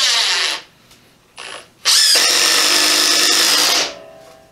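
A Ryobi impact driver set to its highest setting drives a screw up close. Two short loud bursts come first, then one long, steady, high-pitched whine that cuts off abruptly.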